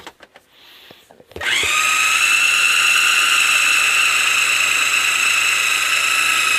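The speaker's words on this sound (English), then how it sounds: "You can really hear that motor of the Ninja struggling." A Ninja blender spins up with a clatter and then whines at a high, steady pitch as its motor strains against thick hummus inside an RV, loud and close with no talk.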